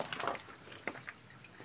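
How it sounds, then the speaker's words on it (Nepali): Faint water from a spring inside a cave: a few soft, scattered drips and splashes over a low, hollow background hush. "त्यतिर पानीको मुहान पनि रहेछ"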